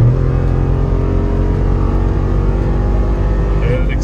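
Jeep Wrangler 392 engine accelerating at highway speed: a loud, steady low drone with road and wind noise that holds constant throughout, a voice speaking briefly over it.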